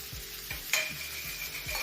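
A spoon stirring chili crisp in its jar, several quick scraping strokes over an oily crackling hiss with a brief sharp clink, close up and without speech.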